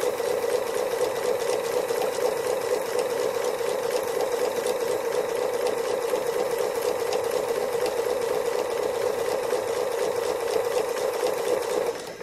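A domestic sewing machine running steadily through free motion embroidery on a raggedy heart design, a continuous close whirring hum with a fast even stitching rhythm throughout, no talking.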